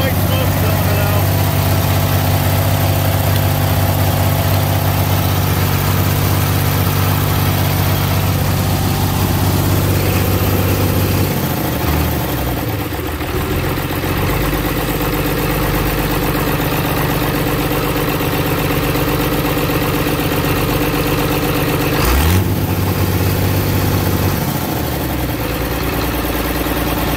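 A Galion 503 road grader's diesel engine idles steadily up close with a low, even rumble, briefly dipping and shifting twice before settling back; the engine still has a cylinder putting out white smoke.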